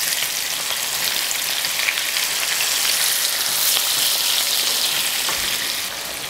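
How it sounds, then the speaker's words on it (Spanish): Vegetables frying in oil for an escabeche, cooked in the same oil used to fry sardines: a steady, loud, close hiss and crackle that holds for several seconds and eases slightly at the end, with no voices. "En el mismo aceite sofreímos las verduras."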